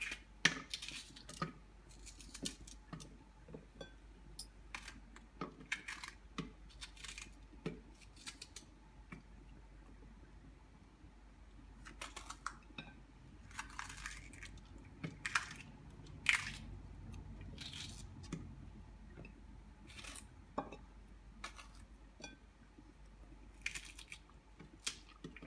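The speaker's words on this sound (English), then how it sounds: "I'll be adding in 5 fresh green washed chilies. So you cut them in." Fresh green chilies being cut for mint sauce, a series of irregular crisp snips and crunchy chops spread through the clip, close but fairly quiet, with no voices.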